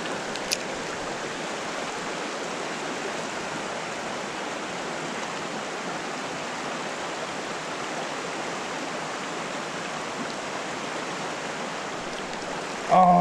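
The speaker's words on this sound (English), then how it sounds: "let's fish the rapids right below the red covered bridge" Creek rapids rush steadily below a red covered bridge in Philadelphia, a dense even hiss of flowing water, close and unbroken, with a brief knock near the end.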